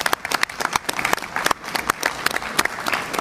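Applause from delegates at an international internet governance conference session, many hands clapping in a steady, lively patter throughout, fairly close and clear, with no talking over it.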